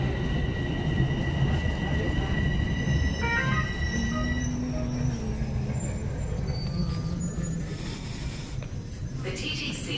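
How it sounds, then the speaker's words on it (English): A Toronto TTC subway train rolls along with a loud, steady rumble and rattle of wheels on track, high squealing tones rising and fading partway through, and voices faintly mixed in. "Now I'm taking this train."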